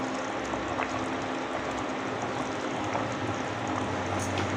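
Mutton kulambu curry with ground masala simmering in a cooking pot, a steady close bubbling and hissing that runs without a break, with no voices.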